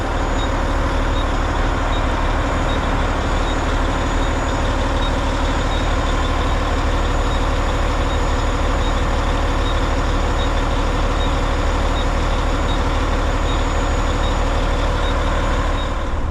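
Large truck diesel engine idling up at a concrete pour job site, a loud steady rumble that holds throughout with dense broadband noise and no speech.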